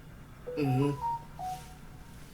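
A phone sitting nearby gives off two short electronic tones, about half a second apart, faint under a brief murmured voice.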